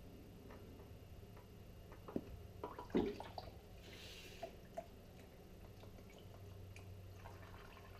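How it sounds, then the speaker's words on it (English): Used engine oil dripping from a car into a drain pan during an oil change, a few soft, irregular drips and taps over a faint room hum, close but quiet. "Let that drip for a minute before I put the new filter on."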